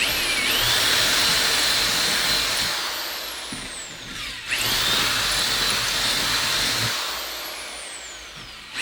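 A power drill widens screw holes on a Land-Surf Ranger surfskate install in two loud, close bursts, each whining up in pitch, bogging as the bit bites, then winding down.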